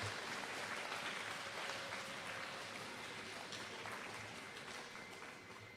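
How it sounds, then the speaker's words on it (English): A school awards-ceremony crowd applauds student teacher winners, a dense, steady wash of clapping that fades slightly as it goes on. "Let's give a big round of applause for our individual student teacher winners."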